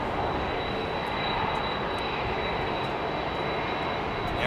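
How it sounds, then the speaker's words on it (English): A United Boeing 767 jet airliner at London Heathrow gives a steady, broad engine roar that holds loud and even throughout, with no voices. "got another United 767"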